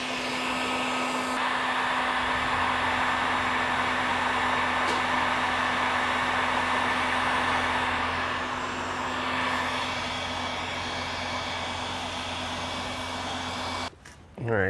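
A heat gun blows a steady, loud hum while heating an Osage orange selfbow limb to straighten it. The hum runs for about fourteen seconds before cutting off with a short clatter.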